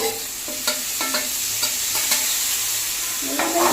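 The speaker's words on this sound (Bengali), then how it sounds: "এবারে টমেটো আর কাঁচা লঙ্কাটা এবার দিয়ে দিব" Chopped tomatoes and green chillies hit a spice paste of turmeric and chilli powder frying for Bengali egg curry, a steady close sizzle with light stirring scrapes throughout.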